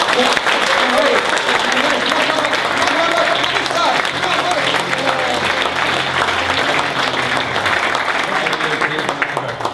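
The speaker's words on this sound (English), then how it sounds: "Come on, round of applause." Sustained, loud round of applause from the audience at a window company's AGM, dense clapping filling the room for the full length with a few voices mixed in underneath.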